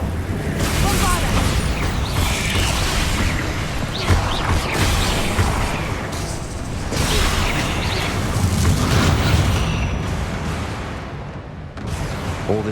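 The Bombarda blast spell in the Hogwarts Legacy video game goes off as loud booming, crackling impacts among rumbling debris and game effects, with voices talking over them.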